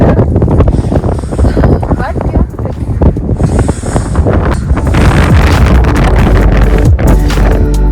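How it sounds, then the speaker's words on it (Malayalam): Loud, strong, freezing-cold wind at Great Sand Dunes National Park buffets the microphone in heavy roaring gusts, with a voice briefly speaking through it. "പ്ലസ് നല്ല കാറ്റുണ്ട്."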